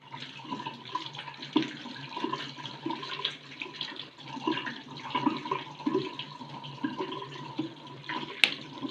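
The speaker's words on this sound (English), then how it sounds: "Then we'll wash this bowl." Kitchen tap water runs steadily into a sink while a bowl is rinsed during doughnut-hole baking prep, with continuous splashing and occasional clinks close by.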